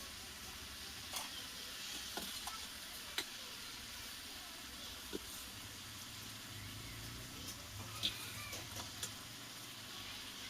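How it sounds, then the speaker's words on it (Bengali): Prawns fry in a pan for a Bengali-style prawn and kochu lati curry, a faint steady sizzle with occasional soft clicks of stirring, quiet and continuous without talk. "চিংড়ি দিয়ে ভালো করে একটু ভাজাভুজি করে হয়ে গেছে"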